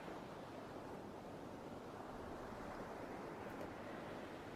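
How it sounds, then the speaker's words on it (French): Ocean waves wash in a soft, continuous hiss, distant and quiet, with no distinct break or voice over the steady surf. "tu continues à être bercé par le rythme naturel des vagues"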